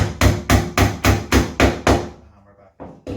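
Sharp metal hammer blows strike beekeeping equipment in a steady rhythm, seven close loud hits. A short pause follows, then one more blow.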